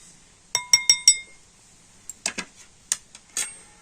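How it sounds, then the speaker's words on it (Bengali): A spoon mixes cocoa powder into cake batter in a bowl, giving four quick, bright clinks in a row, then a pause followed by a scattered series of softer taps and knocks against the bowl. "কোকো পাউডার দিয়ে আবার আমি খুব সুন্দর করে ব্যাটারের সাথে গুলে নেব"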